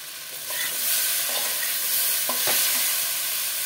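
Ginger-paste water and five slit green chillies go into a hot pan of spiced oil for a vegetarian dish, setting off a loud, steady hissing sizzle that swells and holds.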